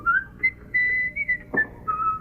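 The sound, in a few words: person whistling a tune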